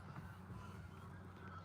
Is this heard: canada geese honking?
yes